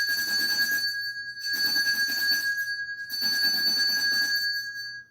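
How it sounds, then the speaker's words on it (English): A bell rings in three separate bursts, each a bright sustained metallic tone with shimmering overtones that fades briefly before the next strike, fairly loud and close with no talking. "Let's ring this bell"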